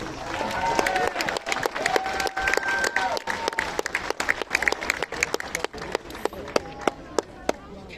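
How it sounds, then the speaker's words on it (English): A crowd at the closing ceremony of an under-12 national football tournament in Melbourne applauds, sharp claps scattered through a steady roar of clapping, with faint voices and a few whistle-like tones mixed in. "And applause for the team from New South Wales."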